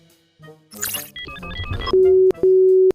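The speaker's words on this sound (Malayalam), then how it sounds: "ആദിയുടെ ഫോൺ സ്വിച്ച്ഡ് ഓഫ് ആണ്" A phone call fails to go through because the other phone is switched off: after some brief shuffling and clicking come two loud, steady electronic tones, each lasting about half a second, with a short gap between them.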